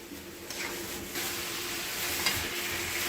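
Chopped tomato and okra stirred and frying in a pan over lowered heat, a steady close sizzle with soft scraping of the spoon, no talking.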